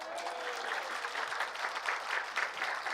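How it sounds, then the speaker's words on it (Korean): A church congregation at a family-healing revival service claps steadily, a dense, even wash of applause that holds for three seconds at moderate distance. "하나님께 영광의 박수"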